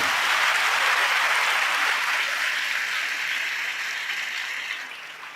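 A congregation at a Telugu Christian sermon claps together in praise of God, a loud, dense wash of applause that holds steady and slowly thins out over five seconds, with no talking.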